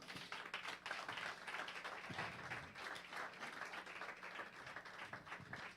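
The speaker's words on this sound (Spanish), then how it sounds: "le da un fuerte aplauso al Señor" A church congregation applauds with a dense, continuous round of clapping that sounds distant and fairly faint, holding steady throughout without any talk.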